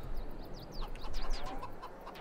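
Chickens in the video game Farming Simulator 22 cluck and squawk in a busy, overlapping flock, close and moderately loud, with no talking.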